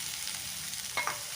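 Vegetables frying in hot oil with onions for an ivy gourd and black chana stir fry hiss in a steady, bright sizzle, broken briefly by a stirring scrape.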